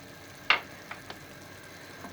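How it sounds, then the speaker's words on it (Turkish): Spices such as turmeric, black pepper and cinnamon being stirred in a pan: a quiet sizzle with one sharp scrape of a utensil followed by a few softer taps, no voices. "yavaşça karıştıralım"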